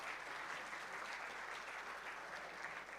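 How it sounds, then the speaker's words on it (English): Steady, even applause from a seated audience at a banking summit session fills the hall, a dense wash of clapping that holds at a constant level throughout. "A round of applause for our session,"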